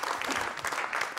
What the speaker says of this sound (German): Aber bitte macht ein ganz großes Applaus für das ganze Team hier im Ballhof.